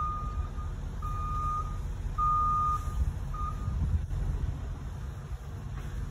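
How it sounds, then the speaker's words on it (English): A truck's reversing alarm sounds outdoors in a series of high beeps at uneven spacing over a low, windy background rumble. "I gotta wait till this truck leave, because that beeping noise"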